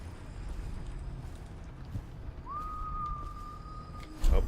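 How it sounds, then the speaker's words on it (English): A single clear whistled note rises and holds steadily for about two seconds inside the stealth game Dishonored, heard at moderate distance over a low ambient hum, followed by a soft thump. "Oh, I hear whistling."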